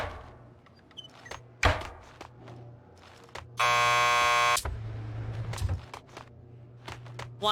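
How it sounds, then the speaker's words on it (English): In the video game Max Payne 2, a door buzzer sounds one loud, harsh, continuous buzz of about a second, set among clunks, thumps and a low background hum. "Just press the buzzer by the door."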